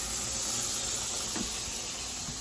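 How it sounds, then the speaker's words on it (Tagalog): A pot of croaker fish stew with sweet potato leaves boils at a steady, close, continuous hiss and bubble, with no talking. "Kumukulo na?"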